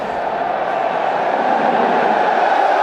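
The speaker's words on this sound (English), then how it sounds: "everyone's entertained out there. The crowd, McCullum, even the Australians" A stadium crowd at a New Zealand versus Australia T20 cricket match roars in a loud, sustained wash of cheering.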